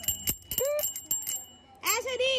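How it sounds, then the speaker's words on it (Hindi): A bicycle bell, on a bike bought in Sirsa, rings out in a couple of bright metallic bursts amid street noise and nearby talking voices. "इसकी तो घंटी बड़ी जबरदस्त है"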